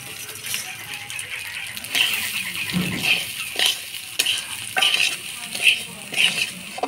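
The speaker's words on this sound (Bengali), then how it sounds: "চাল দিয়ে ভালো করে নাড়াচাড়া করে নিব।" Gobindobhog rice stirred and fried in a pan for basanti pulao, along with cashews and raisins: a steady sizzle with repeated scraping strokes and light rattling, close and moderately loud, with no voices.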